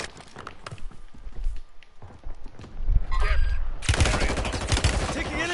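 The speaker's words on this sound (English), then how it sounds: "Taking enemy fire!" Gunfire in a battle royale video game: rapid bursts of automatic shots build into a loud, dense volley in the second half, with players talking excitedly over the action.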